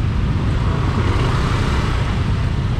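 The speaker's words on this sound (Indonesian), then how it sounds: "Shortcut Canggu di sore-sore hari kayak gini, sering sekali terjadi kemacetan kayak gini." Afternoon traffic jam on Shortcut Canggu road in Bali: a dense, steady roar of idling and creeping cars and motorbikes, close by and constant, with no clear individual pass-bys.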